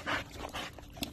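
A rescue dog whimpers and pants in short breathy bursts, soft and close, with a brief higher whine near the end.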